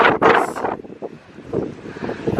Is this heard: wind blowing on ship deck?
yes